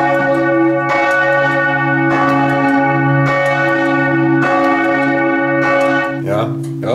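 A large church bell in Muri, slowed by a motor, rings in slow heavy strokes about every second and a half, each strike bright with long humming overtones that sustain between blows.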